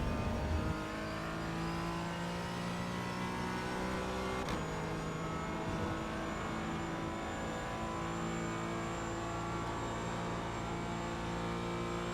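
A Porsche Cayman GT4 flat-six engine drones steadily on track at Watkins Glen, loud and close from inside the car, with sustained harmonic tones shifting gradually as the car holds speed through sweeping corners.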